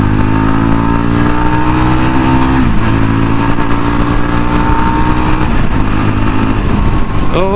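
Yezdi Roadster 2022 motorcycle accelerating hard on a pickup test, a loud close engine roar climbing through the revs with a gear change partway, filling the whole stretch.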